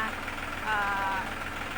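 A new farm tractor in Roi Et, Thailand, idles with a steady, low, throbbing engine rumble, while someone talks over it and a brief tonal chirp rises partway through.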